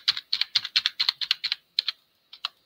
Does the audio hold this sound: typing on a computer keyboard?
yes